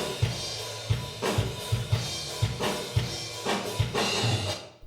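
A drum kit captured through a room microphone with a reverb plugin added, beats of kick and snare hits ringing out into a large, washy ambience, with guitars faintly in the background.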